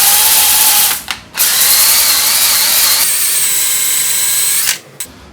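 A power drill spinning a cylinder hone whines loudly and steadily inside the rusted cylinders of a seized 413 engine from a 1967 Plymouth, pausing briefly twice before stopping.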